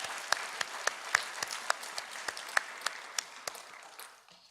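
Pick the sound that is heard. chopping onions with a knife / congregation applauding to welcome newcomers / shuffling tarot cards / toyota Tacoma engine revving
congregation applauding to welcome newcomers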